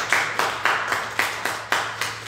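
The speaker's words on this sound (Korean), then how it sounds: "우리 박수로 축하하고" A church congregation claps in celebration with about eight evenly spaced, loud claps in a steady rhythm, close and clear, with no talking over it.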